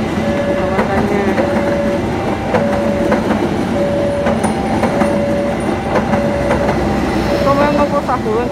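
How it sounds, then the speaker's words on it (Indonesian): Argo Wilis passenger train running past level crossing JPL 163 Merdeka in Indonesia, a steady loud rumble of wagons with rhythmic wheel clatter and repeated ringing of the crossing bell throughout, with faint voices underneath. "Kereta api Argo Wilis melintas di JPL 163 Merdeka"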